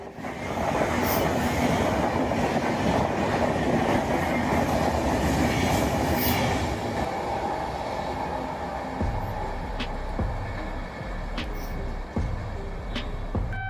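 An Indian Railways long-distance train runs steadily with a loud continuous rumble and clickety-clack of wheels over rail joints, with occasional brief squeals, and no voices.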